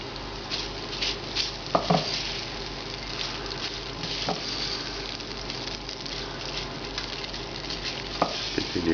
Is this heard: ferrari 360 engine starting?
no